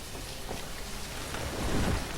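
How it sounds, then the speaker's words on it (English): Rain falling in the city-building game Banished, a steady hiss of drops with a low rumble swelling toward the end, like distant thunder, heard alone without talk. "Getting rainy."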